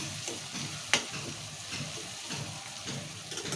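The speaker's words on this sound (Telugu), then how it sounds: "ఒకసారి కొత్తిమీర కూడా కలుపుతున్నాం ఇలా" Spoon stirring coriander leaves into a tomato and drumstick fry in an oiled pan, a steady soft scraping and oil sizzle with one sharp clink of utensil against the pan early on.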